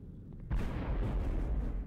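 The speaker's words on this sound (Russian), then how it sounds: "Но требуется взрывчатка, взрывпакет. Окей, устанавливаем взрывпакет." An explosive charge detonates in C-12: The Final Resistance, a sudden loud blast after a quiet moment, followed by a rumbling roar that lingers and slowly fades.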